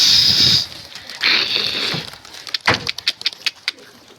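Basrawi pigeons released into the air: a burst of wing flapping and cooing up close, then a rapid clatter of wingbeats as the birds take off, with no talking.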